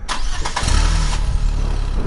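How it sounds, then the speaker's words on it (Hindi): A car engine cranks and catches, the starter churning briefly before the motor settles into a loud, steady idle close by. "चंदन जी ने दोबारा से गाड़ी स्टार्ट की"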